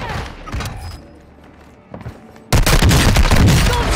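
Gunfire in a video game shooter, scattered shots and muffled thumps during a quieter stretch, then a sudden loud burst of sustained firing erupting close by for the final seconds.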